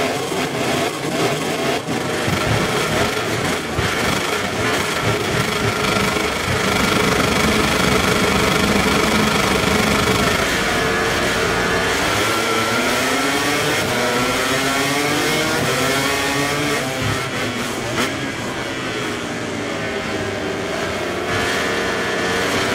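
MotoGP bikes launching off the grid at a race start in the video game MotoGP 24, a dense, loud, sustained engine roar with rising and falling pitch sweeps as the machines accelerate away together.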